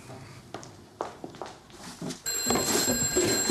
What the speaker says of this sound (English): Telephone's ringing, sir.